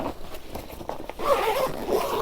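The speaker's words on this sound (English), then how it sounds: "Has a nice little zipper that zips all the way around." A zipper is drawn all the way around a race bag. Several short ratcheting zips run in a row at close range, with no one talking.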